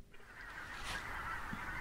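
Migratory geese resting on shallow water in the Elbe-Weser triangle give a brief burst of honking calls, faint and distant, over a soft background hum.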